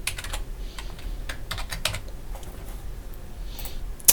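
Keystrokes on a computer keyboard come in quick, irregular bursts with short pauses between them, close and fairly crisp over a quiet room.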